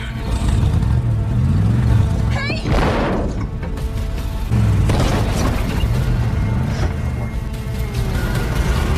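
A car in a film rams into another car again and again, heavy impact booms landing in a few clusters over steady engine rumble and revving.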